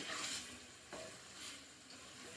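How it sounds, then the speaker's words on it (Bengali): Roasted fennel powder gets stirred into a tomato chutney in a hot pan, giving a soft scraping stir over a quiet, steady sizzle, faint and close. "ভাজা মৌরিটা আমি উপরে ছড়িয়ে আবার মিশিয়ে নেব"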